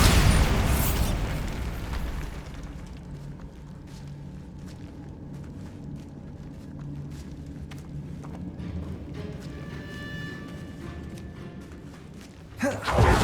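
Bombarda blasting spell going off in Hogwarts Legacy inside a tomb in the Feldcroft catacombs: a loud booming burst at the start that rumbles and decays into a low, echoing ambience, with a second sharp blast near the end.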